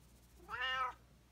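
A tortoiseshell cat that has had catnip lets out a single clear, close meow, a short rising-and-falling cry in an otherwise quiet room.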